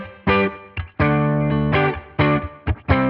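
An electric guitar played through a Tonex amp model with cabinet, reverb and compression rings out in several loud, distorted chord stabs separated by brief gaps, with a rhythmic chugging pattern.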